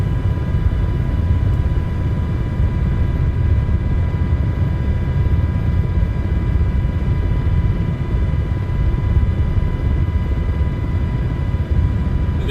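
An MH60 Black Hawk or Sea Hawk helicopter engine in a flight simulator game produces a loud, steady droning rumble with constant whining tones that holds unchanged throughout.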